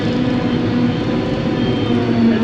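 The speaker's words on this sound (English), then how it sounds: "the chopper seems to be picking up fairly well" A forage chopper cuts and picks up hay in a field, a loud, steady machine drone with a continuous engine hum and churning mechanical roar that holds unbroken and close throughout.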